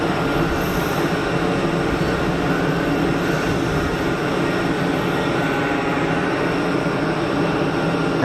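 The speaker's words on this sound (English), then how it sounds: "Air Dolomiti coming in from Munich." Steady loud roar of an Air Dolomiti plane arriving from Munich at Geneva Airport, a continuous broadband engine rumble holding constant throughout with no talk.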